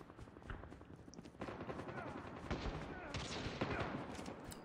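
Bursts of automatic rifle fire from a Call of Duty Mobile match, short rapid volleys repeating at close range under continuous game sound, with a voice faintly present in the mix.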